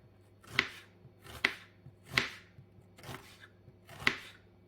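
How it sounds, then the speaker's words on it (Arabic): Knife slicing a red onion thinly for a colorful pepper salad, five crisp cuts in a slow steady rhythm, close and clear, with no talking. "وهنايا نجيب البصل الاحمر نقطعه كيما هكا، يكون رقيق بزاف"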